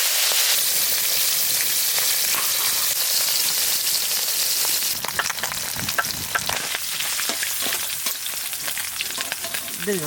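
Tangra fish fry in mustard oil in a kadai over a village-style cooking fire. A steady hiss gives way about halfway through to a loud, crackling, spattering sizzle that continues to the end.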